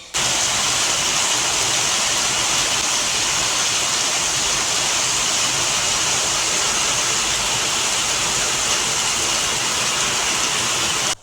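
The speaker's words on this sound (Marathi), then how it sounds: "सकाळपासून ना खूप जोरदार पाऊस सुरू झालेला आहे" Heavy rain pours down in a dense, constant roar, a loud unbroken hiss with no pauses.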